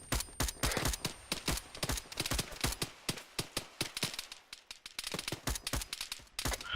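Rapid bursts of rifle fire crack in close succession in a military video game firefight, sharp loud shots repeating in quick rhythm for several seconds with only brief gaps.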